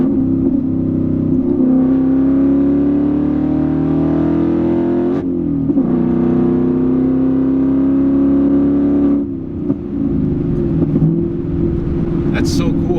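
A 2019 Ford Mustang GT V8 pulls hard in third gear, its engine note rising steadily and loudly from inside the car, with a brief dip at a shift before climbing again, and people talking over it.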